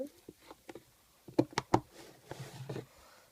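Soft, wet squishes and sticky clicks come in small irregular bursts as slime is pulled and pressed, quiet and close with pauses between.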